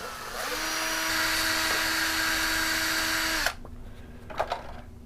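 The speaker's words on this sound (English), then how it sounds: "you simply take a power drill and you gently chuck that outer piece in the drill" A power drill spins a tube against 400-grit sandpaper, whirring steadily for a few seconds with a rough abrasive hiss, then stops abruptly, leaving a quiet room with a few small knocks.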